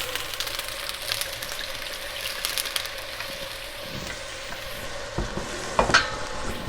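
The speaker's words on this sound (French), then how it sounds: "je vais réchauffer la poêle et je vais déglacer un peu au vin rouge pour récupérer tous les sucres et saveurs qu'il y avait dans la poêle" Red wine deglazing a hot pan for beef bourguignon gives a continuous crackling sizzle with scraping and stirring sounds, up close, growing busier toward the end.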